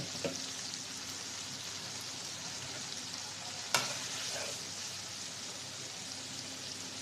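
Meat with potatoes, carrots and tomatoes sizzles steadily in a pan, a continuous rain-like hiss with an occasional sharp clack of the stirring spoon.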